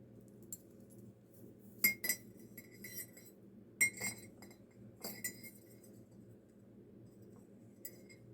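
A metal scoop clinks against a small glass tea jar: a few sharp, bright taps in quick pairs, up close and fairly soft over a low steady room hum.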